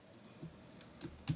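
Typing on a PC keyboard, a few soft scattered keystrokes at close range, with faint quiet room noise between presses.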